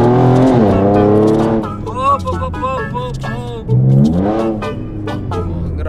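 A red Chevrolet Camaro engine revs hard several times, loud and close, with rising and falling pitch sweeps between blips and people talking in the background.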